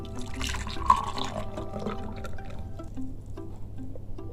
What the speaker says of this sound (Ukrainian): я ставлю чашечку і наливаю такий п'яток, бачите?